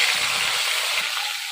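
Bata fish spits and sizzles in hot oil in a wok for a Bengali fish curry, a steady, close, bright hiss with no talking.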